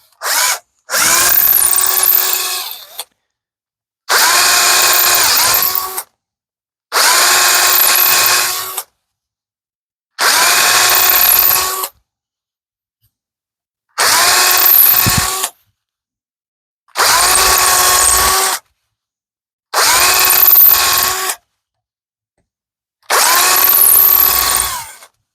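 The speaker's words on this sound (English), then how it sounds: "we're going to drill these holes out just a hair more." A power drill whirs in eight short, even bursts separated by silent pauses, loud and close.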